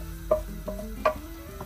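Meat browning in a pot for homemade lasagne, with a few short stirring scrapes and a soft sizzle close by and no voices.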